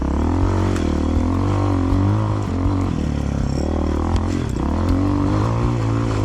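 A cheap 250cc fuel-injected Walmart dirt bike accelerates on an off-road loop, its engine revving loud and close with rising and falling pitch as it picks up speed.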